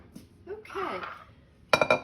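A mixing bowl clinks and knocks against a kitchen surface in a few quick, bright hits right after someone talks.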